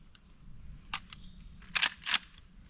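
A Rossi R92 lever-action carbine fires .38 Special rounds outdoors, giving a few sharp, fairly distant cracks with short gaps between them, the last two coming close together.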